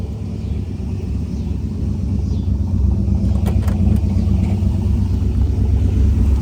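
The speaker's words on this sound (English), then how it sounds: "I'm gonna go ahead and rev this thing up, close the hood." A 1970 Chevrolet El Camino turbo engine with the hood closed, running with a loud steady low rumble that swells slightly as it revs, with no talk.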